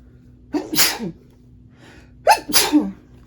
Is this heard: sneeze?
yes